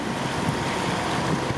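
A sailboat motoring into Madeira over a calm sea with light wind and rolling waves of about three feet gives a steady broadband rush of wind and water with a low engine rumble underneath, continuous and without voices.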